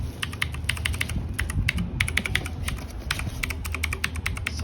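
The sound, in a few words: typing on a Cosmic Byte Artemis mechanical keyboard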